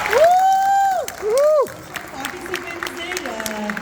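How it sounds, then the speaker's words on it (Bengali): Audience at a Durga Puja dance performance breaks into applause and cheering, with rising and falling vocal whoops over a crowd wash that fades after a couple of seconds. "এই আরেকবার জোরে একটু হাততালি।"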